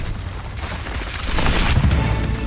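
Confringo fire spell explosions in Hogwarts Legacy, a loud rumbling blast swelling into booming crackle, with heavy low-end impact midway and a sustained roar of game effects.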